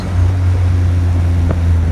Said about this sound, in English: there's nothing like a Healey exhaust now